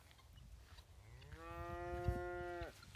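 Calves moo and bawl for their mother on a farm, one long drawn-out call rising and then cutting off sharply, heard over a noisy outdoor background.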